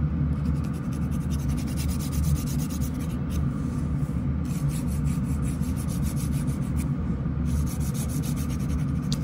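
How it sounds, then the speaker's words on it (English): A nail file rasps across fingernails during a manicure in steady back-and-forth strokes, close and distinct, with brief pauses between passes and no talking. "Is filing back and forth okay? It definitely is okay."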